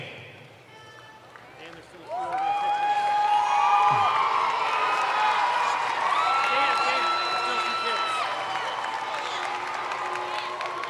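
Loud crowd cheering, whistling and applause erupt about two seconds in and stay steady to the end at a 2025 Clayton High School commencement, after a quieter stretch at the start.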